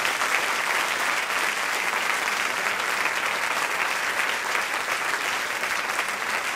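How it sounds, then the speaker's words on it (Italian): Steady, dense applause for a school's teachers fills the whole stretch, an even wash of many hands clapping at constant loudness with no breaks. "un grande applauso a tutti gli insegnanti della Cassura d'Arancino"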